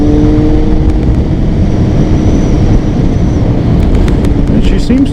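A 2000 Kawasaki ZX6 motorcycle engine running smoothly on a ride, a loud, steady drone mixed with heavy wind rush and brief higher whines toward the end.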